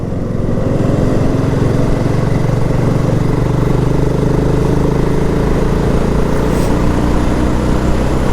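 BSA Gold Star motorcycle engine in top gear with a slow roll-on acceleration, a loud, close and steady single-cylinder drone that hums continuously for the whole stretch.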